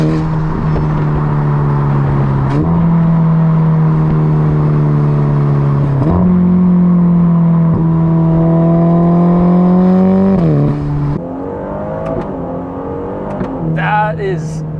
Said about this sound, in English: Those pops on the upshifts are super satisfying.